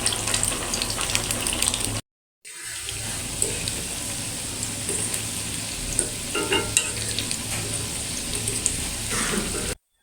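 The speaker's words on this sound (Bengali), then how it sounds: "এখন আমি এগুলাকে সুন্দর করে ভেজে নিব।" Spiced chicken balls frying in a pan, a steady sizzle with stirring scrapes, broken by a brief pause and then continuing evenly, no voices.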